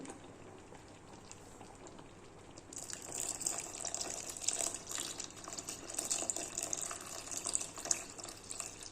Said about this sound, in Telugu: ముందే కాచి చల్లార్చుకున్న పాలు పోసుకుంటానండి నేను.